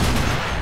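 In Men of War Assault Squad 2, a machine gun fires a brief, dense, loud burst that packs the moment with rapid overlapping shots.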